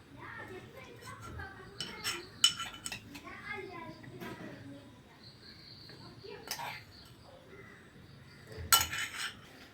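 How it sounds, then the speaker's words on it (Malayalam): Coconut chutney made with shallots is spooned from a mixer jar into a bowl, giving scattered metallic clinks and scrapes of utensil on dish, sharpest near the start and end, with faint household sounds behind. "ഇനി നമുക്കൊരു പാത്രത്തിലേക്ക് ഇട്ട് കൊടുക്കാം."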